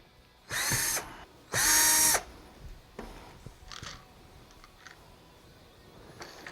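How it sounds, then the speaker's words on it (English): Power drill or driver spinning out the head screws of a Flojet pump, two loud whirring bursts of about half a second each, followed by fainter clicks and brief ratcheting sounds close by. "I just take a drill or an impact or a driver, whatever you prefer"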